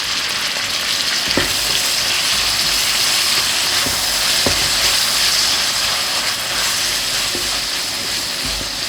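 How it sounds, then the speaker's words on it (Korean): Garlic and shrimp stir-fry in a hot pan with a steady, dense sizzle throughout, broken by a few sharp spatula knocks against the pan. "마늘 볶다가 새우도 같이 넣고 볶아줍니다."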